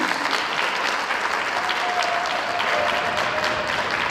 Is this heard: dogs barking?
no